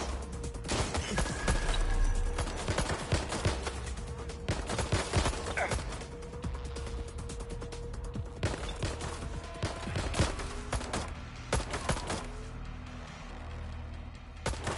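Gunfire in the video game Watch Dogs Legion crackles in rapid bursts and repeated single shots over a steady rumbling background, loud and close, with overlapping cracks continuing throughout.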